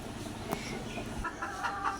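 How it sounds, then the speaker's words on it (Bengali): Local desi chickens on a small family poultry farm cluck and murmur in a short, busy burst, fairly close, with a sharp click and a couple of brighter calls near the end. "আর এটা হচ্ছে আমার বোনের মুরগির ফার্ম"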